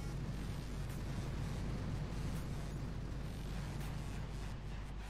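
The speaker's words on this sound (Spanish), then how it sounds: "Bueno, disparo ráfaga a tope." Gunboat barrage in the mobile strategy game Boom Beach, heard as a dense, continuous rumble of explosions and low booms that stays loud and steady throughout, with no talk.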